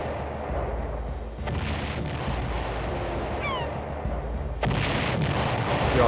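Ship cannons firing in a pirate galleon video game, heavy booming shots over a steady rumbling sea-battle background, loud and close, with a bigger blast near the end.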